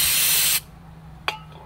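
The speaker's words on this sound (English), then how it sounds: "So I'm just gonna take some brake cleaner." Brake cleaner sprays from an aerosol can onto parts of a 2020 Kawasaki Mule Pro FXT, a loud close hiss that stops abruptly, followed by a brief short spurt.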